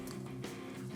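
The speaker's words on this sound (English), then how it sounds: "I coughed again" A single short, close cough from a man still recovering from a bronchial illness bursts out at the very end after a second of quiet indoor room tone.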